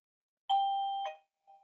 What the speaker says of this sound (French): j'ai une sonnette avec un transformeur